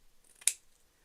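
A single sharp snip of scissors trimming fabric scraps, brief and close in an otherwise quiet room.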